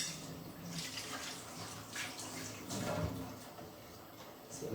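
Running water and light clatter of plates while dishes are washed at a kitchen sink, a steady wash of splashing with occasional clinks, fairly faint and continuous.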